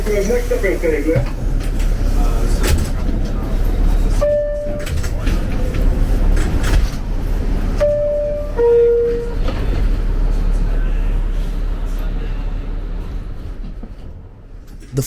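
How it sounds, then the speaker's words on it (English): A New York 42nd Street Shuttle subway train runs from Grand Central toward Times Square. It rumbles and rattles steadily for the whole stretch, with a few short chime-like tones and announcements over the noise, heard from inside the car. "Join me as we take the train on one track from Grand Central to Times Square."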